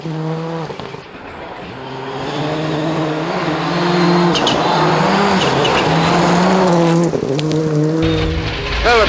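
A rally car driven by Colin McRae power-sliding, the engine revving loud and close with rising and falling pitch and tyres squealing across the run, without any talk.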